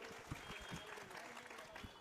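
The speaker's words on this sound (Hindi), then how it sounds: "एक बार जोरदार तालियां सैयद अली भाई के लिए।" A short burst of steady applause from an audience at a political speech gathering, a dense wash of clapping hands heard at moderate distance and fairly faint.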